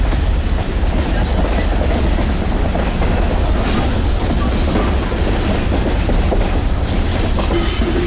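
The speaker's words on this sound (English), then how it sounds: "guess you can get used to the train noise coming by all the time." A train on the Tennessee Valley Railroad rumbles past continuously at close range, loud wheel and rail noise steady throughout.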